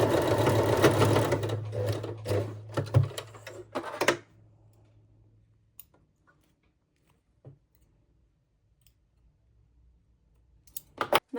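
Sewing machine running in short bursts while stitching a bralette seam, a fast mechanical whirr and clicking for about four seconds, then near silence with a couple of isolated clicks and a brief restart at the end.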